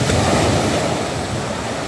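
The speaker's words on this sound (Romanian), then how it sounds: "E o plăcere să stai să asculți cum se sparg valurile la mal" Black Sea waves breaking on the shore at sunrise, a steady loud wash of surf with wind, continuous and close, no voices.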